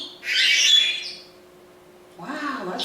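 A Senegal parrot lets out a loud, harsh squawk up close, followed after a short pause by another raspy call mixed with a person's voice.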